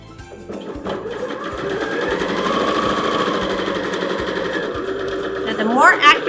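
A sewing machine runs continuously at a steady, rapid buzz as it stitches fabric along a quarter-inch guide, loud and close, with a brief squeaky flourish at the very end.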